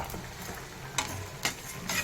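Cumin, fenugreek, coriander, cardamom and cinnamon dry-roasting in a pan for masala fish pickle, with a soft steady sizzle and a few sharp scraping strokes of a spoon stirring the spices.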